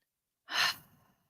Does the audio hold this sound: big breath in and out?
yes